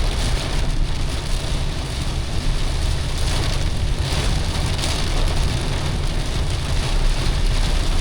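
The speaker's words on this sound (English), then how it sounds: "Never-ending wet rain, rain, rain." Heavy rain pouring down during a storm on a farm, a dense, steady, loud hiss of drops hitting surfaces with no break.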